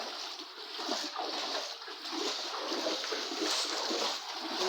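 Floodwater inside a flooded house sloshing and splashing in a steady, close, continuous wash of water movement, with no clear talking.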